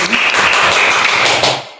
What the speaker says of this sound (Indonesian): Tepuk tangan dulu untuk narasumber kita kali ini